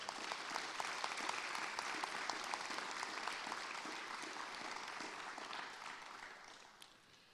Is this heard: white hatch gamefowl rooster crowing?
no